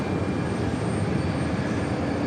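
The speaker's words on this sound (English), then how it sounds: "Up next, Air France. Flight 1 heading to Paris, A350-900." An Air France Airbus A350-900 jet at JFK airport gives off a steady, broad engine roar, loud and continuous with no talking.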